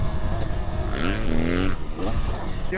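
Two-stroke dirt bike engine revving hard in rising, falling bursts, close and loud, with people talking and cheering over it.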